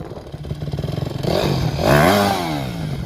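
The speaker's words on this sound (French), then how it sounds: "ça galère à démarrer le 4 temps?" A Yamaha YZF 250 four-stroke dirt bike engine revs up in rising, buzzy surges, climbing in pitch and dropping back, fairly close and with no talk.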